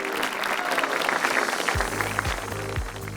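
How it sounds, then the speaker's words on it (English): A crowd claps steadily at a car factory opening ceremony in Rayong, Thailand, dense applause filling the space, with a low deep pulsing tone entering partway through under the clapping. "A big round of applause"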